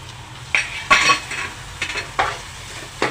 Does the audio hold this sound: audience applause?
no